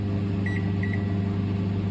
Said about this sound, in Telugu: సో ఇప్పుడు మనం మైక్రోవేవ్లో పెట్టేసుకున్నాం